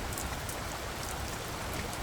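Steady rain falling without pause, a soft even wash of drops on surfaces, fairly quiet and continuous with no voices.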